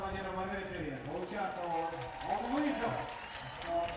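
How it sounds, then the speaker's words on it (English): Crowd cheering and applauding at a men's under-18 3x3 basketball quarter-final in Astana, a sustained roar of voices swelling and falling, with a commentator talking over it. "the crowd is cheering"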